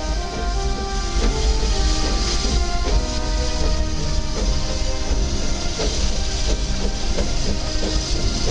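A train rumbles steadily along the rails, loud and continuous, with a rhythmic clickety-clack and a hissing wash throughout.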